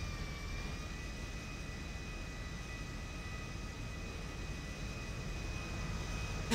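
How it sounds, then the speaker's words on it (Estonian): Airplane in the video game Grand Theft Auto V landing on a city street, with a steady jet engine roar and whine holding at an even level throughout. "Ma reaalselt maandusin endal lennukiga lihtsalt keset auto tänavat."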